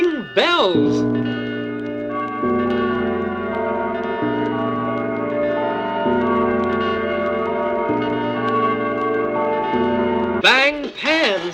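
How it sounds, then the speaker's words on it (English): Bells ring in a slow sequence of sustained, overlapping tones that shift pitch every couple of seconds, with a voice briefly at the start and end. "Ring bells."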